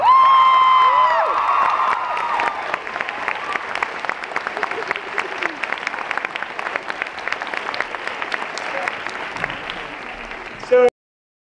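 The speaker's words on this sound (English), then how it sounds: "One more applause for the night." An audience at a school evening event breaks into loud applause mixed with cheers and whoops, steady clapping sustained for about ten seconds before cutting off abruptly.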